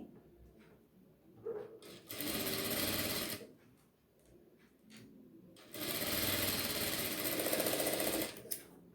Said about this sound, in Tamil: இப்போ ஒரே மாதிரி 1/4 இன்ச்சுக்கு ஸ்டிச் பண்ணிக்கலாம்.